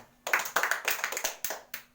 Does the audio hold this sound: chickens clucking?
no